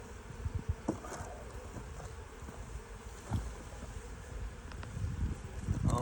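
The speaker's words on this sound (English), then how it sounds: "I'm gonna bang some bees out of the bottom of the feeder by doing that." Honeybees buzzing around a hive feeder outdoors, a low drone with scattered knocks and rustles from the feeder being handled nearby, fairly quiet with wind noise.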